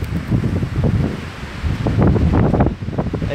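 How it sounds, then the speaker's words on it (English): Gusty wind whips through trees outdoors, buffeting the microphone in rough, uneven bursts with rustling, loud and close throughout. "And you can hear the wind whipping."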